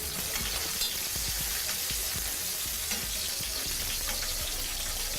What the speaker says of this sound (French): on met un filet d'huile. Voilà. On commence par faire revenir nos oignons.